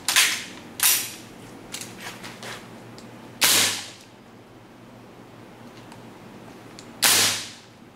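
KJ M4 CQBR airsoft rifle fitted with a new bolt, firing 0.2 g BBs on green gas: sharp, close single cracks with gaps between them, the first two loud, a few faint clicks after, then two more loud shots.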